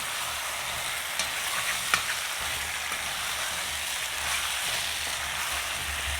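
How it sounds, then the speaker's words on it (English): Potato pieces get stirred in curry-spiced oil in a pan for Trinidad chicken roti, a dense continuous sizzle with a few faint scrapes and one sharper clack, close and even throughout. "We'll add in the potato and we'll give it a stir."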